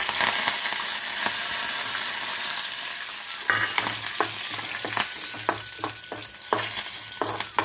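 Curry leaves crackle in a hot oil tempering for chutney, a loud close sizzle. About halfway through, sharp rhythmic stirring taps begin and repeat to the end, with no talking.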